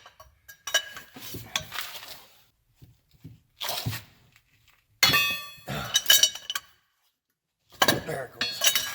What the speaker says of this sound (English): I'm going to be using this pipe on the end of my ratchet to get more leverage, and they should break free